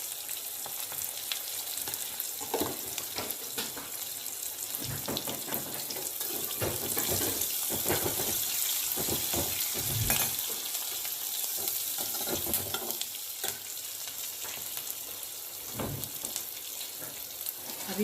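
Coriander seeds, onions and curry leaves fry in oil with a continuous crackling sizzle, broken by the scrape and clatter of stirring throughout.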